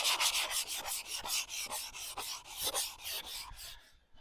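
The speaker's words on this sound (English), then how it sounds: "Probably give it a quick run over with some 120 grit" Steady back-and-forth strokes of 120 grit sandpaper rubbing along a wooden axe handle, a rhythmic raspy scrubbing repeated many times, close and fairly loud, then stopping near the end.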